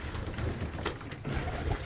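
Pigeons coo inside a pigeon loft in soft, low, throaty murmurs over a faint rustling background. No one speaks.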